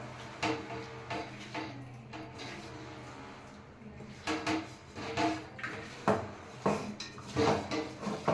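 A spoon scraping and clanking against a metal pot while biryani is mixed, irregular knocks and scrapes close by, louder bursts toward the end, with no talk.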